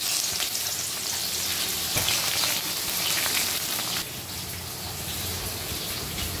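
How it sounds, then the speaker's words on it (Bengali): Chopped onions sizzle in hot oil for a Bengali fish curry, a steady, dense crackling hiss that stays loud and close throughout with only slight shifts in intensity. "তেল গরম হয়ে গেছে, আমি পেঁয়াজ দিয়ে দিলাম।"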